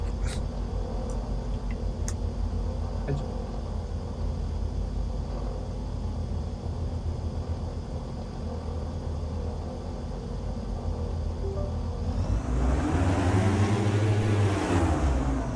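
The twin engines of a Diamond DA42 in Microsoft Flight Simulator 2024 drone steadily at Compton Abbas, a constant rumbling hum that swells louder and shifts in pitch near the end.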